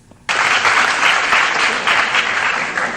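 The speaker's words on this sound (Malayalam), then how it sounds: "വിദ്യാർത്ഥികൾ നൽകിയ കയ്യടിയും മാസായി" Students break into loud applause at an election campaign event, a sudden burst of dense clapping from a sizable crowd that holds steady and close for the rest of the stretch.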